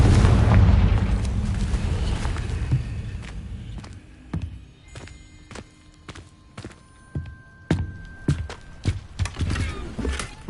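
A Confringo fire blast spell in Hogwarts Legacy bursts with a loud, deep boom at the start that rolls off slowly, followed by a string of sharp cracks and thuds scattered through the rest of the fight.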